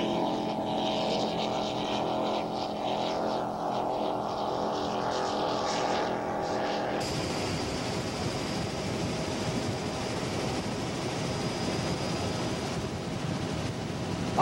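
Offshore superboat powerboats racing off Marathon, Florida, with a loud, steady engine roar and rushing wash throughout that shifts character halfway through, no voices.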